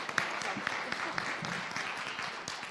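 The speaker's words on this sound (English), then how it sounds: "Let's give David a round of applause." Audience applause after an evening talk by Dr. David Rosmarin on anxiety, a moderate wash of clapping with sharper individual claps standing out, filling the room steadily throughout.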